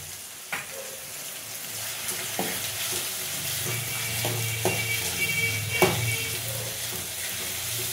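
Pineapple and carrot cook in a pan with a soft, steady sizzle, broken by several sharp clinks and scrapes of a spoon and a few gentle watery bubbling sounds.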